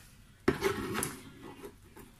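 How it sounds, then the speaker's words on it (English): An onion being chopped with a knife, likely on a board: one crisp chop followed by brief scraping and rubbing, close and fairly quiet. "So that's how I chop my onions."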